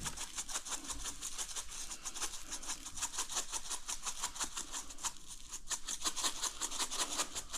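Dry steakhouse-style rub being worked onto raw ribeye steaks by hand, a steady close scratchy rubbing texture with repeated strokes, no talking.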